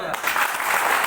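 A short, loud, continuous burst of crowd clapping fills the moment at a retail company's staff training programme in Lucknow, steady and dense throughout.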